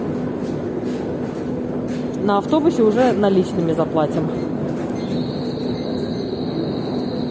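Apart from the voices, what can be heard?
subway train running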